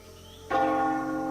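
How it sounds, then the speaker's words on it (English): A single bell strikes suddenly and rings on with a steady sustaining tone, fairly clear over a quiet background hum. "You hear a bell going off."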